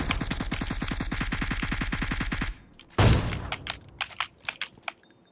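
Rapid automatic gunfire in a battle royale game, a steady burst of about two dozen loud shots lasting over two seconds, followed by one heavy blast and a few scattered sharp single shots.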